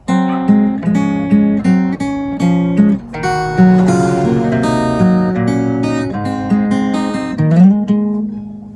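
A fingerstyle guitar plays a song, with plucked notes and chords ringing in a flowing, close, loud phrase.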